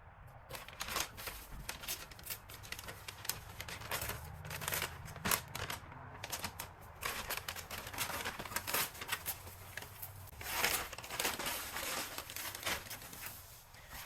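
Masking tape and paper are peeled from a freshly painted car panel, making quiet, close, irregular crinkling and tearing rustles in clustered bursts, with no voices.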